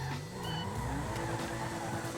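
In GTA 5 Online, an Ubermacht Sentinel XS drifts with a sustained engine drone rising and falling in pitch, along with a faint tyre squeal. It is moderately quiet and continuous, with no talking.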